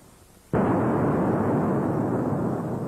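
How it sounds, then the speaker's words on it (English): A single loud explosion erupts suddenly and rolls on as a sustained, rumbling roar after a quiet moment. "Sounded like an explosion."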